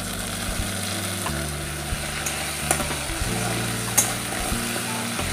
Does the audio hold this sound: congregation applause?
no